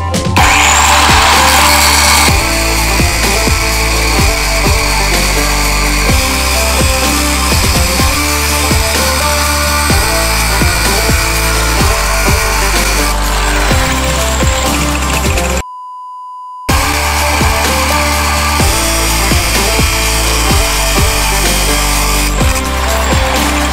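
A power saw grinds loudly and continuously through a 12 cm steel H-beam being cut to size for a roof support frame in an old stone ruin, with one brief cut-out midway.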